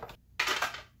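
A handheld vegetable dicer snaps shut on a bell pepper, giving a single sharp crunching clack partway through, with a brief clatter just before; close and fairly loud, no talking.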